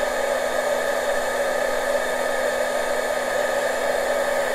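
A handheld heat dryer blows over alcohol ink on a paper bag journal, giving a close, constant whooshing hum with a steady motor whine that never changes pitch across the few seconds.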